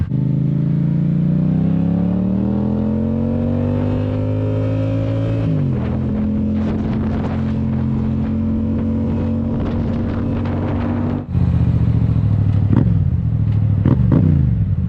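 A Honda Grom motorcycle on a road, its small engine droning loudly and steadily at high revs, with a gear shift partway through and continuous wind and road rumble.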